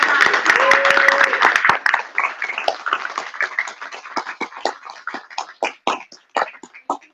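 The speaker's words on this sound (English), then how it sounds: "So let's give him a round of applause." Applause at an educator of the year award gathering: a short burst of clapping from a small audience that thins into scattered, separate claps, with a voice heard near the beginning.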